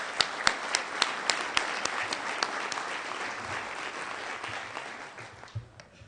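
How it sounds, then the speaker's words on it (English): Applause from an audience at an awards ceremony honoring the Managing Director, sharp individual claps at first building into steady dense clapping that slowly fades toward the end. "I'd like to give the Managing Director a round of"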